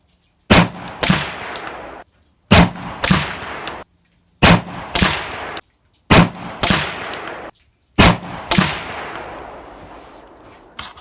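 Five loud shots from a PSA AR47 7.62x39 pistol with a 10.5-inch barrel, fired one at a time at roughly two-second intervals, each crack followed by a ringing outdoor echo that fades after the last.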